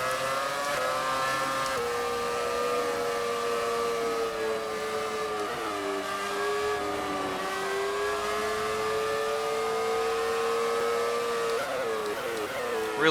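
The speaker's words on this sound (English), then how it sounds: "Really do like the sounds on a lot of these classic cars" A classic Brawn Formula 1 car in the racing game F1 2018 drones steadily at high revs for the whole stretch, its engine note dipping and climbing through gear changes and corners, loud and close with no voices.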